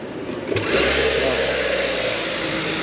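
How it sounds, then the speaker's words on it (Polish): A steady low hum with a faint higher whir runs continuously, the cooling system of a 2022 Kia Sportage 1.6 T-GDI hybrid running on its electric motor, at close range. "Co prawda na silniku elektrycznym, ale pracuje, słychać tutaj chłodzenie."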